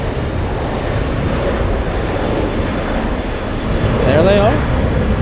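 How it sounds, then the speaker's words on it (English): An Aer Lingus airliner takes off at JFK airport, a broad roar of jet engines rolling steadily from a distance, with a person speaking briefly over it and a short whistle-like warble near the end. "As we watch Aer Lingus lift off"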